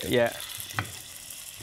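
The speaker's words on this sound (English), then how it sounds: "Do you want to hear the sizzle?" Chicken pieces sizzling in a hot pan, a soft steady frying hiss under a brief spoken reply, with a short clatter partway through.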